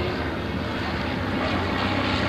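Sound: 1929 Great Lakes Speedster biplane flying past at airshow

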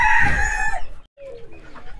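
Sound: chickens clucking and rooster crowing, desi hens

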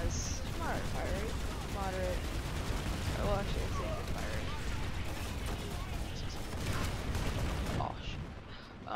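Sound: LA1 Anchor gun firing in video game PlanetSide 2

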